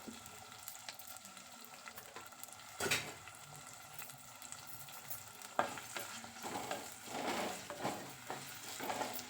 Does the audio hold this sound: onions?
yes